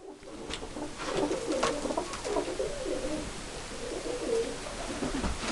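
Recessa red stock pigeons coo steadily in a loft, several soft overlapping calls rising and falling close by over a constant background hum.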